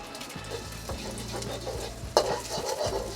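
Eggs are scrambled in a hot oiled pan for homestyle beef fried rice, with continuous stirring scrapes and a steady sizzle. A sharp clatter of utensil on pan comes near the end.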